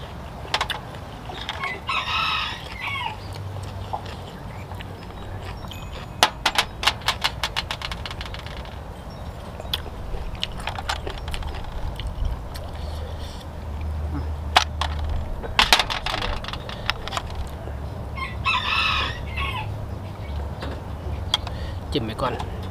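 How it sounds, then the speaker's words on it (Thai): Roosters crow several times, loud and near, amid clucking chickens, sharp clicking noises, and a low engine rumble in the background. "ฟังเสียงนกเสียงไก่มาแล้วกัน"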